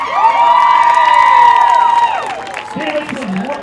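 A stadium crowd at a women's football championship game roars with loud, sustained cheering and high-pitched screams for the team mascot, then dies down into scattered voices and whoops.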